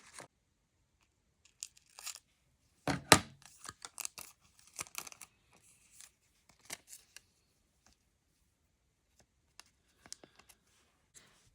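Scissors snip and crinkle through painted art-journal paper in scattered, quiet cuts with pauses, close and intimate, one louder tearing crunch early on, no talking.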